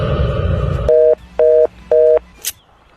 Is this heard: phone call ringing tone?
yes